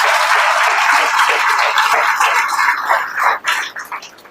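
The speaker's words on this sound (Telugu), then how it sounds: "మరి ఒకసారి మీరు గట్టిగా చప్పట్లు కొట్టుకోండి." A seated audience at a motivational success-story event claps loudly in a dense burst that thins out and fades toward the end.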